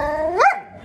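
A single short dog bark, close and loud, rising in pitch and then cut off.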